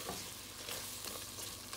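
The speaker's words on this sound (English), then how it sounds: "We're gonna add our garlic in there." Garlic frying in butter with squid and other seafood in a pan, a soft steady sizzle with faint scraping of a stirring utensil, close and fairly quiet, no voices.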